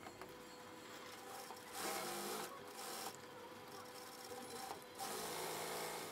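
A sewing machine stitches the shoulder seam of a girl's shirt, a soft steady whirr that surges in several short louder runs, heard close and quiet with no talk.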